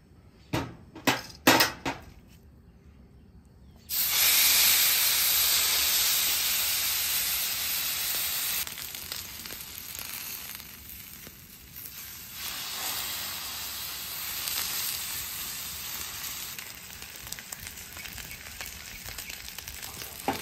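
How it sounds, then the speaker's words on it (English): A tomahawk steak drops onto an oiled griddle after a few taps of a utensil, then sears with a loud, bright hiss that slowly fades and swells again as the meat is moved about. "we're gonna sear it back and forth, about a minute per side, flipping it back and forth till the desired doneness"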